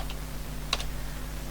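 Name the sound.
typing on a computer keyboard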